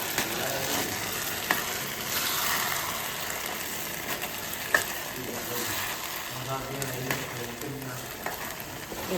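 Spices sizzle steadily in hot oil in a pan as tempering for mustard greens, with occasional stirring clinks and a brief murmur of talk in the background.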